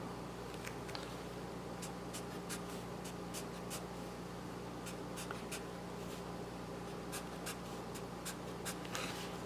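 Pen or marker writing out a chemical structure of carbon chains with triple bonds, heard as a steady run of short scratchy strokes and taps over a constant low air-conditioning hum, with no talking.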